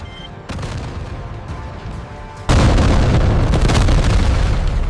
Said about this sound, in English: The GAU-8 erupts, tearing the anti-aircraft position apart.